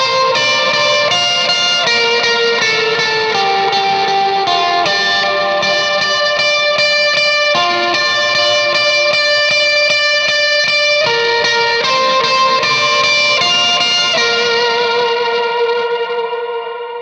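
Electric guitar solo through a Morning Glory overdrive pushed harder by a boost pedal, sustained singing lead notes drenched in echo and reverb, loud and continuous with no talking.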